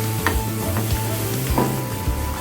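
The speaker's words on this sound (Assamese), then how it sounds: "মই দিম ইয়াত কেইটামান নৰসিংহ পাত ফ্ৰাই কৰি লওঁ" Curry leaves sizzle and crackle in hot oil in a pan with chopped onion for an eggplant, coconut and peanut dish, a loud steady frying hiss punctuated by stirring scrapes.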